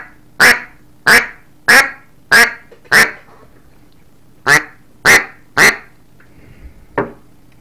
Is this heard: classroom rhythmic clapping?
no